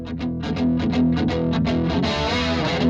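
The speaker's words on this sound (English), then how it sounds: "Go to a modulation block and open Gear Suite to access the effect's different presets." Electric guitar played through a modulation effect preset on a BOSS GX-1 processor, a distorted riff of repeated picked notes in quick rhythm, then a sustained warbling chord, loud and alone.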